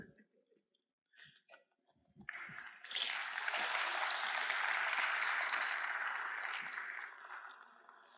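A small crowd at a church gathering breaks into applause after a few scattered claps, a dense burst of clapping lasting about five seconds before fading.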